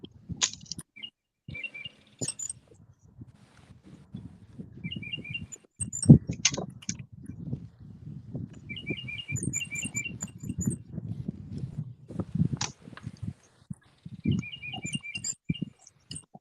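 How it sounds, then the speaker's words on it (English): Birds in trees right overhead at a wooded spot, giving short repeated high chirps and tweets in scattered bursts over near rustling and patter, fairly faint and intermittent, with no talk. "They got some birds in the trees right by our heads, kind of singing a little bit."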